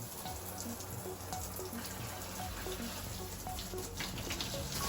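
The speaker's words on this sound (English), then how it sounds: "then we'll hit the hot knob of the shower" An RV shower's hot tap runs steadily, antifreeze flowing through the plumbing during winterizing, a continuous faint splashing trickle with no talking.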